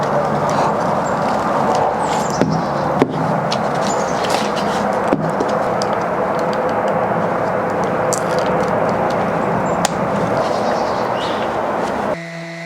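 Power sanding a walnut charcuterie board with 60 and then 80 grit sandpaper, a steady loud whirring hum with faint scraping, broken by a few sharp knocks and clicks.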